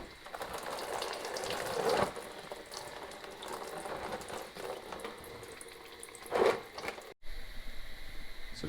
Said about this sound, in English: Definitely a lot of coolant's going to come gushing out.